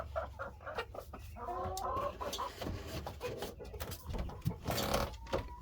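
Several broody hens cluck and churr close by, overlapping bursts of low grumbling calls in a coop, fairly loud throughout.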